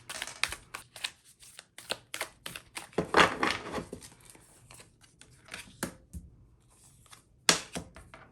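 Tarot cards being shuffled in irregular bursts of soft riffles and sharp taps, close and fairly quiet, with short pauses between handfuls.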